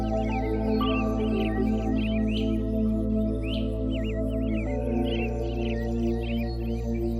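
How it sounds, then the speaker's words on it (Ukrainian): Several birds chirp and trill at dawn in short, repeated calls over a steady, low, continuous hum, the song layered and fairly close. "Десь зовсім близько ти чуєш, як прокидаються пташки."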